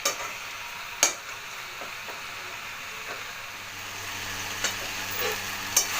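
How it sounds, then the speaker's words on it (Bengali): Chicken keema masala sautés in a pan, a continuous soft sizzle broken by a few sharp scraping and tapping hits of a spoon as it is stirred. "যতক্ষণ পর্যন্ত না এখান থেকে জলটা বেরোবে ততক্ষণ পর্যন্ত এটাকে কষতে থাকবো"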